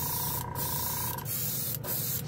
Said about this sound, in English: that's pretty good control for a real entry-level airbrush